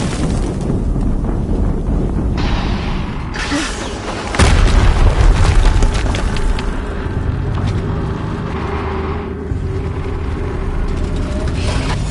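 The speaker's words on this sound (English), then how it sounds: "Another explosion." Explosions boom in Horizon Zero Dawn on Ultra Hard, a loud, dense rumble with a heavy low blast near the middle and a continuous roar under the whole stretch.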